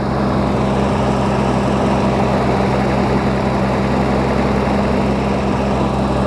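Nissan Fairlady Z engine running with the bonnet open and the stock cooling fan in place, a loud, steady close-up drone with a constant low rumble and no talk over it.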